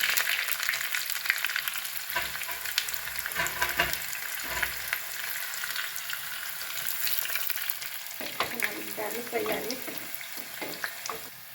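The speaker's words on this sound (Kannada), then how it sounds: "ನೋಡಿ ಆನಿಯನ್ ಫ್ರೈ ಆಯಿತು" Onion and mustard seeds fry in hot oil for a radish sambar, a continuous close crackling sizzle with occasional stirring scrapes. A voice talks briefly near the end.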